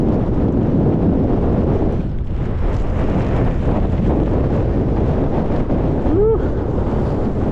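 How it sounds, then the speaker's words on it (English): Strong wind gusts buffet the microphone on an exposed hilltop in rain, a constant loud roaring rush that swells and dips throughout, with a faint voice briefly audible near the end. "Wind's gusting at possibly 40 miles an hour."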